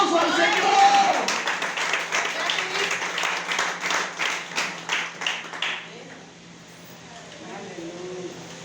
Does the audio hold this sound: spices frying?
no